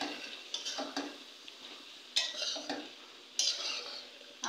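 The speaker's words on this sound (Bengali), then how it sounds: "এবার আমি এগুলা সুন্দর করে কষিয়ে নেব, আলু, বরবটি, বেগুন।" Potatoes, yardlong beans and eggplant are sautéed in a pan, with a spatula stirring and scraping in repeated close strokes over a low sizzle, and a few sharper clanks against the pan.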